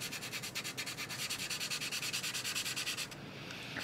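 Rapid rhythmic sanding on a 1/48 Eduard Spitfire plastic model kit, evening out a mismatched seam, a steady close scratchy back-and-forth rasp of about eight strokes per second that stops abruptly near the end, with no talking.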